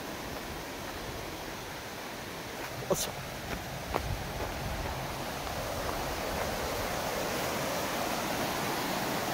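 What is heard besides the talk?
Ryuzu Falls waterfall in snow, Nikko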